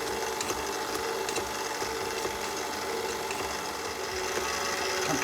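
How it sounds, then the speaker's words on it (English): A blender running on low speed whips cream with a steady mechanical whir and faint rattling, continuous throughout with no talk. "Okay, I'm gonna turn on the blender."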